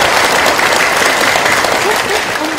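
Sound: audience clapping during a Buddhist talk

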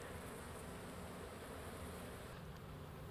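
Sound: honeybee colony buzzing

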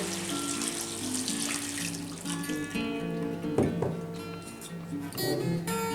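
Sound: water being added to salted chestnuts

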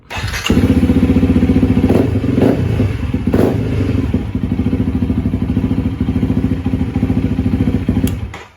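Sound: Honda CRF300L motorcycle engine starting

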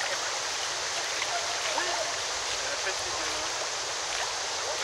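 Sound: waterfall and stream water flowing

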